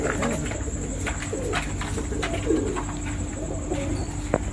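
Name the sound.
pigeons cooing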